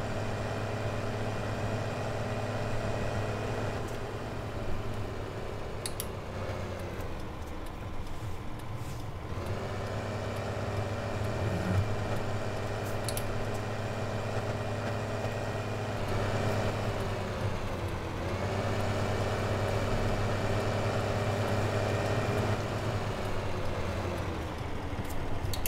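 A tractor engine in the video game Farming Simulator 2015 on the Sandy Bay map idles and revs with a steady low diesel drone, with several surges in pitch and load and no talking.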